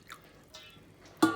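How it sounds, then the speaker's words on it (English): A small splash of water is added to a stir-fry sauce of oyster sauce and sesame oil, heard as a few soft drips and a brief louder pour at the end. "I'm also going to put just a little bit of water"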